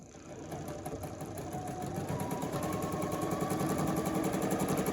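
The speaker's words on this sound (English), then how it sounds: "I'm not used to your sewing machine." Sewing machine stitching fabric for a project roll, a quick, steady mechanical rattle of the needle that runs continuously and grows slightly louder, heard close up with no talking over it.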